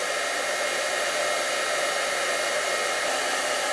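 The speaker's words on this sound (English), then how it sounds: "I'm basically going to just dry this piece with the heat tool" A heat tool drying wet glitter paper blows with a steady, loud, unbroken whoosh and hum throughout, close by and with no other sounds.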